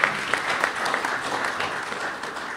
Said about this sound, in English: So please do give me a round of applause.